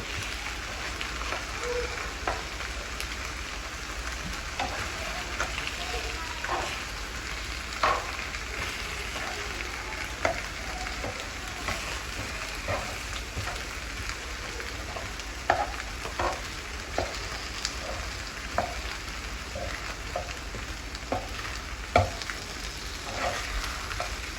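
A steak fries in a pan over a wood fire, giving a constant crackling sizzle with scattered sharp pops and ticks throughout, fairly even and moderately close.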